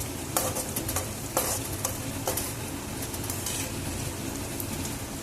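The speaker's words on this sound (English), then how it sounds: "Smell the aroma of the onions getting fried." Onions fry in a pan for vegetable semolina upma, giving a steady close sizzle with a few scraping stirs early on and no talk.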